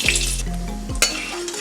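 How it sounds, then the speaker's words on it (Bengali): Cinnamon, cloves, cardamom and a dried chilli drop into hot oil in a kadai, giving a brief loud sizzle and crackle, with a metal utensil clinking against the pan. "কড়াইতে সাদা তেল দিয়ে কয়েকটা দারচিনি, লবঙ্গ, এলাচ আর একটা শুকনো লঙ্কা,"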